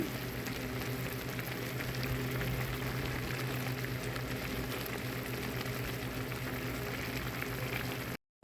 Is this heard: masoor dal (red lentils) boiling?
yes